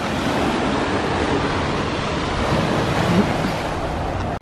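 Steady roar of ocean surf breaking close to the shore on a beach at Dana Point, loud and continuous with wind buffeting the microphone, no voices.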